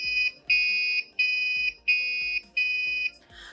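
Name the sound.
coding module buzzer playing police-car-like notes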